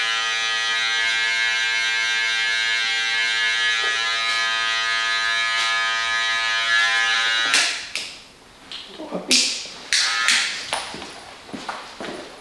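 Electric hair clipper set to zero, used at the tip while cutting a fade in a barbershop; a steady close buzzing hum runs continuously for most of the clip, then becomes choppier and intermittent with brief clicks as the blade works the hair.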